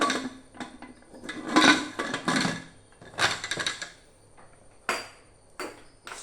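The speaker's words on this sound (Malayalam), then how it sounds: "ഇത്രയും സാധനങ്ങൾ ചേർത്ത ശേഷം കുക്കർ അടയ്ക്കുക." A pressure cooker holding beef and plantain being lidded and sealed, heard as a series of close metallic clanks, scrapes and clicks of varying loudness, with no talking.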